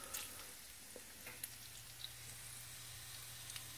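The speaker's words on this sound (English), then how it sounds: "Let's check how the bacon's going." Bacon frying in a pan for a breakfast bagel sandwich gives a faint, steady sizzle with light crackles and pops scattered across a few seconds, no voices.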